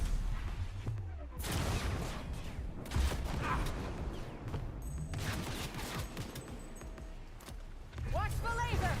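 Cannon fire in a futuristic shooter game, heavy bursts of booming gunfire and blasts overlapping in a dense, continuous barrage, with voices shouting over the battle noise.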